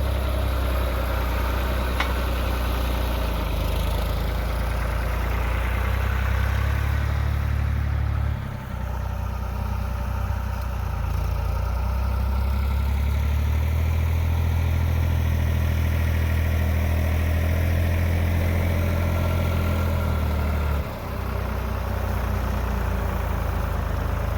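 A farm tractor idles steadily while collecting hay bales, its low engine rumble loud and continuous with a couple of brief dips in the drone.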